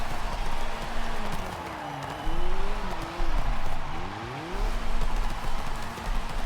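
In Forza Horizon 5, a drift car's engine revs rise and fall in sweeping pitch changes as the tires slide, loud and continuous with brief gaps between bursts.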